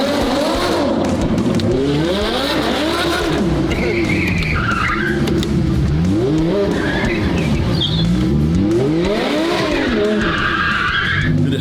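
A supercar from a private collection revs hard and spins its tires, with repeated rising and falling engine sweeps and loud, continuous tire squeal and skidding, close and strong throughout.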